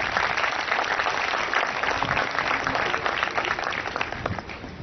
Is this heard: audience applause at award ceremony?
yes